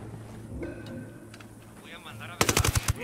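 Rapid bursts of gunfire from the video game Ghost Recon Wildlands, a tight cluster of sharp shots arriving late and loud after quieter game ambience with people talking.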